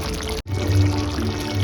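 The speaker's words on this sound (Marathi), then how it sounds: "असं भाकरीचा पीठ टाकतोय मी" Bhakri flour poured into a cooking pot of cooked peas and potatoes gives a steady, soft rushing pour close by, with a low kitchen hum underneath and a brief break early on.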